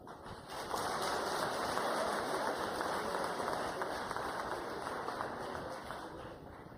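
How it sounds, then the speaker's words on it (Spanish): Sustained applause fills a formal swearing-in ceremony for Colombia's ombudsman, a dense, even wash of many hands clapping at a distance, fairly faint and steady throughout. "Un fuerte aplauso, por favor."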